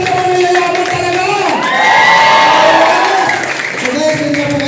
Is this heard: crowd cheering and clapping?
yes